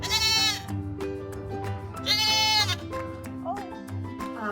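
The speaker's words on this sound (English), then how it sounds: "The goats they're funny. They're funny looking goats." Goats at a vineyard bleat loudly in several wavering calls, some up close and drawn out, over a background murmur of activity.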